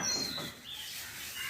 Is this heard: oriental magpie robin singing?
yes